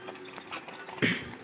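Bullocks' hooves beat quickly across a farm field, a soft run of thuds with one louder close impact near the end, no talk.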